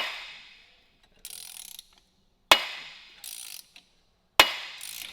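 A ratchet wrench works to loosen a stubborn crank pulley on a 7.0L Hellephant engine: three short bursts of rapid clicking, close by, plus two sharp metallic knocks between them.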